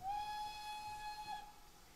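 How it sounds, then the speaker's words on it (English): Steam whistle of an SR U Class locomotive in Train Simulator: one steady, clear toot held for about a second and a half, then cut off, leaving only faint background hiss. "So let's do a nice little toot of the whistle."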